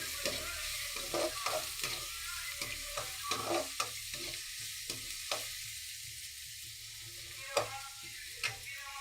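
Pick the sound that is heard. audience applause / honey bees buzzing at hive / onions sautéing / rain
onions sautéing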